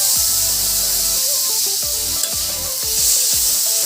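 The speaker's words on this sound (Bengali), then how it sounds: "এখন জিরের গুঁড়োও দিয়ে দিলাম এর মধ্যে আর এটাকে মিডিয়াম ফ্লেমে গ্যাসটাকে রেখে ভাজতে হবে" Cumin powder frying in a pan over a medium gas flame for a bottle gourd dish, a steady soft hiss running throughout beneath tonal background music.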